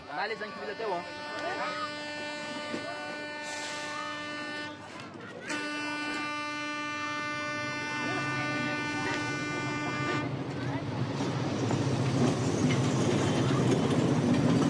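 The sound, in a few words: train moving off along the rails in Madagascar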